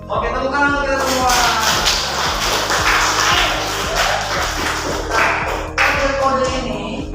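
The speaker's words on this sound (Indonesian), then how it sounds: "Oke, tepuk tangan untuk kita semua." A classroom of children claps together, a loud, dense burst of applause with some taps and shuffling over steady crowd noise.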